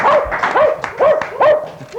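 A dog on a 1991 television talk show gives a string of short, high barks and yips, about five sharp bursts close to the microphone with brief whiny gaps between.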